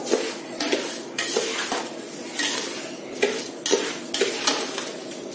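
Raw mango pieces are mixed with sugar in a metal bowl, a spoon scraping and clinking against the sides in quick repeated strokes, close and continuous with no talk.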